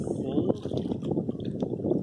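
Wind gusts across a lake during fishing, a broad, steady rushing that buffets the microphone, with faint water movement beneath and no clear speech.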